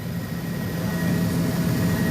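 A rented helicopter over Rio de Janeiro gives off a loud, steady engine and rotor drone that holds unbroken throughout, with no voices.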